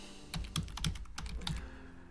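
Keys clacking on a computer keyboard as a search term is entered into a parts filter box in KiCad schematic software, a quick burst of about a dozen close, crisp taps in an uneven rhythm.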